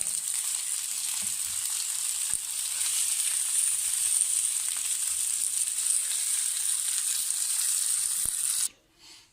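A chicken burger patty frying in a pan just after being flipped, giving a loud, steady, close sizzle that barely changes for about nine seconds, then cuts off abruptly and leaves a brief quieter rustle.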